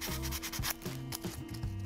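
Steady back-and-forth rasp of 200 grit sandpaper on a 3D printed plastic prop, close and continuous with a quick rhythmic scrubbing stroke and no voices.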